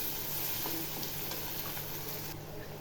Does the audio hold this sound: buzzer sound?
no